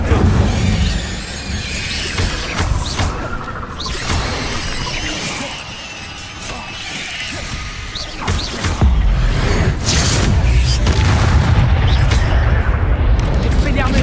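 Incendio fire spell cast in the Hogwarts video game, a loud dense whooshing burst with crackling, squealing effects over game music and ambience, swelling again near the end, with a voice speaking over it.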